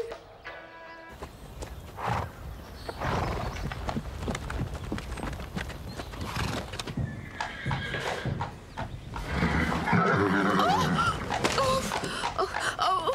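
A horse's hooves clop along with snorts and a whinny amid background voices and bustle, fairly close.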